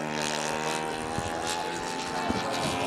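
A model aerobatic airplane flying at the NATs gives off a continuous buzzing propeller engine drone with steady pitch, loud and sustained throughout, with faint crowd or wind noise beneath.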